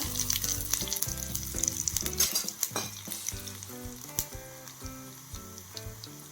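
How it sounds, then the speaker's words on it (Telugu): Coriander seeds and cumin frying in oil for a tomato coriander chutney, a lively crackling sizzle with sharp pops and spoon clicks against the pan, close and without talk. "ముందుగా నూనె వేసుకుని స్పూన్ ధనియాలు ఒక స్పూన్ జీలకర్ర"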